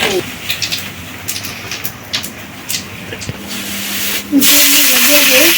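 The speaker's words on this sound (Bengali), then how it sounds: "কড়াই আমার গরম হয়ে গেছে জিরা করে দিয়ে" Cumin seeds dropped into hot oil in a heated wok for a village-style curry, a steady hiss that swells into a louder sizzle near the end, with scattered clinks and a voice speaking over it.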